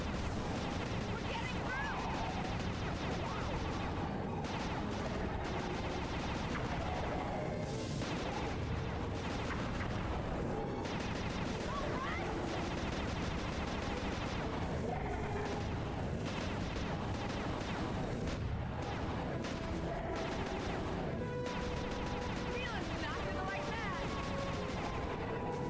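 Missiles firing and exploding in a video game, dense continuous barrages of blasts and impacts layered with game music, loud throughout, with a voice speaking over the action.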